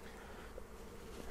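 A thick, unbroken hum of many honey bees swarms around a backyard hive in December, close and even throughout the brief moment, with no one talking.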